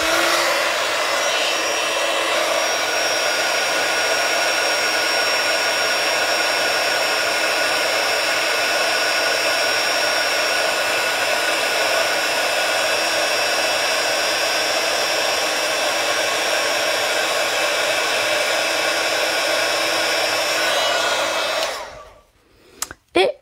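An embossing heat gun for paper card crafting blows with a loud, steady whooshing roar for about twenty seconds, then switches off and winds down.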